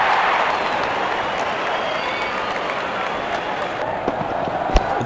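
A large crowd at a Pakistan versus India T20 World Cup cricket match applauds and cheers steadily, a loud, continuous wash of clapping with a voice briefly audible.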